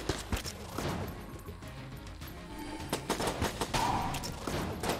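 Gunfire in the video game Enter the Gungeon: rapid bursts of shots and sharp impacts crackle in quick succession, with several louder hits near the end and a busy, layered game soundscape throughout.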